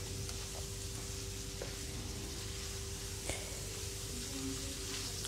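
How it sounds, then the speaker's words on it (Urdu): Minced meat roasting in a pan with green chilies and chopped ginger gives a steady, even sizzle and frying hiss, close and continuous with faint stirring knocks and no speech. "اب ان تمام چیزوں کو مکس کر کے اچھی طرح اس قیمے میں بھونیں گے۔"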